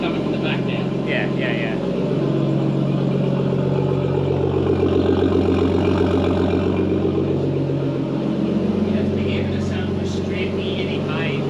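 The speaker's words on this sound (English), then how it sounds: "So At least the exhaust is coming from the back now." A Nissan Skyline straight-six idles cold with a loud, rumbling exhaust, steady and close throughout, while people talk over it.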